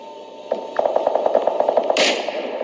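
Rapid automatic gunfire in PUBG, a fast burst of a dozen or so sharp shots in quick rhythm, fairly loud and close, ending with a hissing impact sound.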